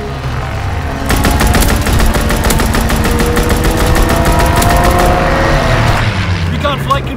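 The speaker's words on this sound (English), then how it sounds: "Strafing run inbound." A strafing run in Call of Duty WW2 tears through with rapid, evenly spaced gunfire bursts for about four seconds over a steady engine drone, then cuts off as the rumble fades and a short voice follows.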